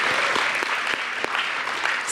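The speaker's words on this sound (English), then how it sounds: "They do deserve a round of applause." Audience applause for the judges at the 2023 National Book Awards finalist reading, a steady dense patter of clapping filling the whole stretch at close range.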